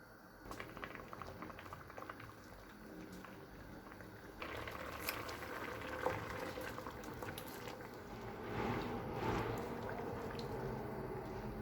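Dry plum chutney with vinegar simmers in a pan over medium flame, giving a soft, continuous bubbling and popping that grows slightly busier partway through and continues unbroken at close range.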